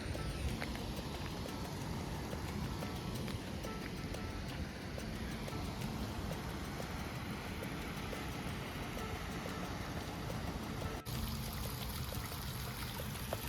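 Spring water flows steadily out of the gaumukh at Mayadevi temple in Bhenskatri, Dang, a continuous close rushing wash that carries on unbroken for the whole stretch.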